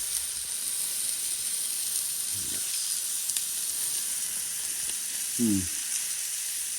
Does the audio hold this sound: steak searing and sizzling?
yes